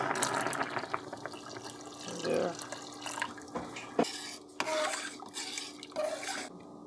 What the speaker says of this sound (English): So we can add some more water to our rice.